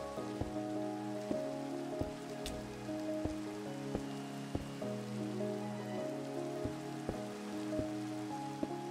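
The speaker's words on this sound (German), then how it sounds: "Eigentlich ist es auch entspannend im Regen." Steady rain pattering down in Minecraft, a soft continuous hiss with a droning ambient tone underneath and periodic faint ticks, with no talking.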